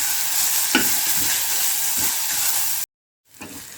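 Onions fry in plenty of oil with a loud, steady, close hiss and crackle and a few stirring bumps, cutting out abruptly before resuming briefly.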